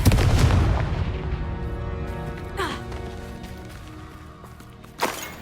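Confringo blasting-spell explosions in Hogwarts Legacy: a heavy boom at the start rolls away into a ringing tail, then two sharper blasts follow, one midway and one near the end.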